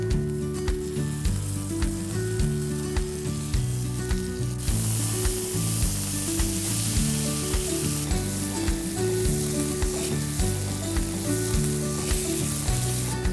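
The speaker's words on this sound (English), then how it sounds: "So we'll just fry this masala paste for a couple of minutes." Blended masala paste frying with browning onions in a pan over a lowered flame, a steady close sizzle with crackling and occasional stirring, no talking.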